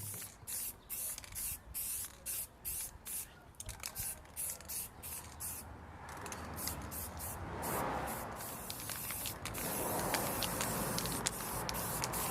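A spray paint can hisses in a rhythmic series of short close bursts, then a longer continuous spray, loud and steady, while coating a stove.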